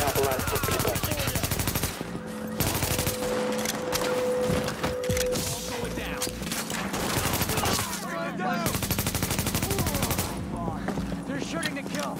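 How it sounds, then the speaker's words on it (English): Rapid automatic gunfire in the video game The Division, with sustained loud bursts broken by short pauses and some scattered shots and mechanical clatter. "They're shooting to kill."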